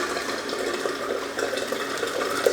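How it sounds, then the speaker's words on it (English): Water sprays and splashes steadily while fish are acclimatised and bagged for a reef aquarium, a continuous close hiss with small splashy bursts throughout. "Spraying water everywhere."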